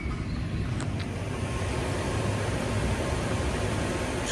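A Jaguar XJ8 X350 Sovereign with its 4.2 V8 running smoothly at a steady idle, a low continuous hum with faint hiss and no other noises.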